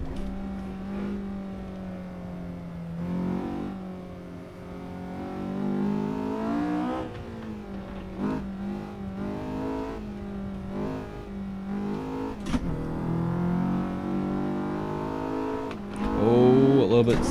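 A Honda S2000 running hard on a race track, its engine droning and rising in pitch through repeated accelerations with brief gear-change dips, heard from inside the car as someone talks over it.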